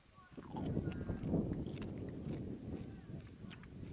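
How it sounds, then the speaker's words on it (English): Biting into and chewing a crunchy fortune cookie outdoors at a windy high school boys' varsity soccer game, with close, repeated crunching bites over rustling wind noise. "I'm going to try the fortune cookie."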